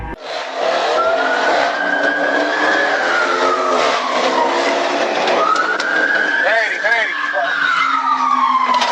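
Loud tire squeal and engine roar from a black and red Dodge Charger, sustained and close, with the screech rising and falling for several seconds during a police pursuit.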